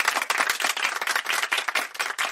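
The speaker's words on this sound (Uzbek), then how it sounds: "Mastura ochimizga yana bir qitim qizg'in olqish yordayli" An audience applauds a performer named Mastura on stage at a comedic stage show, with dense, fast, steady clapping throughout.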